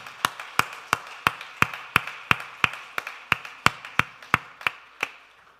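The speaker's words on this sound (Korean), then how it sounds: "우리 따뜻한 박수로 축하하도록 하겠습니다" A church congregation claps together in steady unison, sharp even beats about three per second, with no talking over it.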